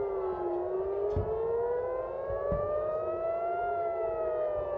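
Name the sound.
civil defense rocket alert sirens in Tel Aviv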